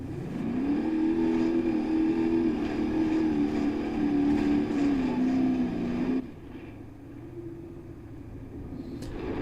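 A ten-wheeler truck engine in the video game BeamNG.drive drones steadily and loudly for about six seconds, then drops to a lower, quieter idle rumble with a faint tick near the end.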